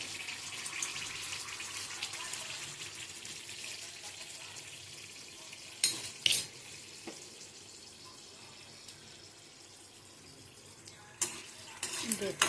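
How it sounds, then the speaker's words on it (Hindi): Dry red chillies fry in a pan with a faint, steady sizzling hiss, broken now and then by a few soft clinks of a utensil against the pan. "लाल मिर्ची भून रही हूँ।"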